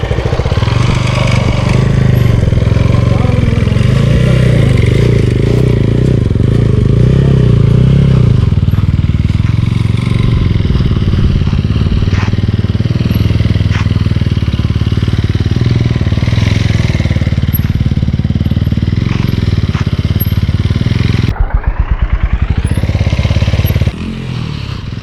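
A motorcycle performing a wheelie stunt roars loudly and steadily at close range, its engine droning with repeated throttle surges for about twenty seconds before a sudden brief dip and recovery.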